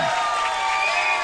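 A local fight-night crowd cheers and shouts loudly for a fighter's introduction at a martial arts event, a continuous dense roar of voices throughout.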